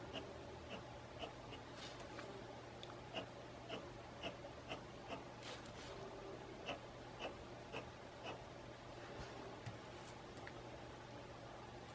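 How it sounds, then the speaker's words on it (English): A pencil is shaded across paper in a steady, faint scratching rhythm of repeated short strokes, close and quiet, with no talking. "Or maybe I'll use pencil and do pencil also for shading."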